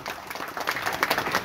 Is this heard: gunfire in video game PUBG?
no